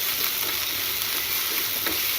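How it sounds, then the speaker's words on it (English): Chopped spring onion sautéing in a pot, a steady close sizzle and crackle of frying running throughout, with occasional soft stirring scrapes and no voices. "I've been sauteing this onion for 2 minutes"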